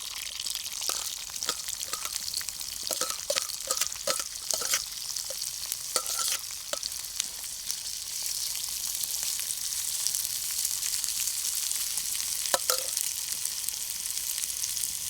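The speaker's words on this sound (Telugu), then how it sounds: "నా ఆయిల్లో ఉల్లిపాయలు వేసుకుందాం." Onions fry in oil for egg biryani, a steady loud sizzle throughout with occasional sharp stirring clinks of a utensil against the pan, outdoors in a village field.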